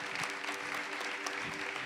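Church congregation applauding together at a worship service, a steady wash of clapping at moderate distance, fairly soft, with a faint sustained tone underneath.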